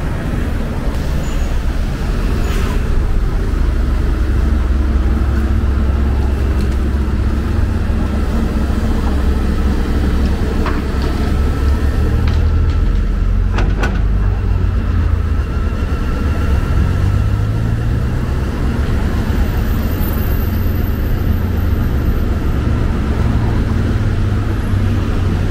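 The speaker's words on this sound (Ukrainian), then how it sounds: "Машини йдуть одна за одною" Busy city road traffic on a Kyiv street near an overpass under repair, with buses and cars passing one after another in a constant loud roar and occasional engine swells, no voices.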